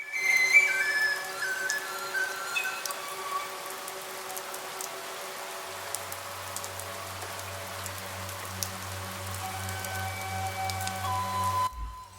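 Light rain falling near Omkareshwar Temple in Ukhimath in the Himalayas, a soft steady patter with scattered drips, joined in the second half by a low engine-like drone.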